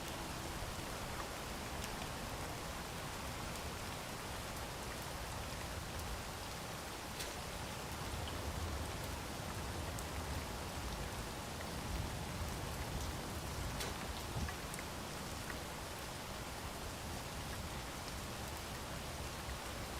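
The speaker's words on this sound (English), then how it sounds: "It's always freaking raining in this game" Steady rain from the weather effect in the video game Space Engineers hisses evenly and softly throughout. No voices or other sounds break through.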